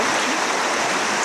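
Loud, close rushing water, a dense continuous hiss and burble of a fast-flowing river in Sagamihara, Japan, with no voices.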